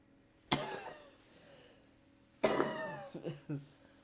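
Two sharp coughs, one early and a louder burst later followed by a couple of smaller hacks, close to the microphone against a quiet room.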